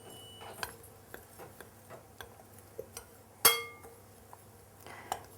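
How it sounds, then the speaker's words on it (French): Dry ingredients, including chopped almonds, are stirred in a glass for a strawberry charlotte verrine, making faint scattered ticks and light clinks with one sharper, ringing clink partway through. "tu peux à présent mélanger les ingrédients secs"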